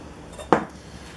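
A kitchen bowl is taken out and set down while making summer rolls, giving a single sharp clattering knock of the bowl meeting a hard surface, close and brief against a quiet background.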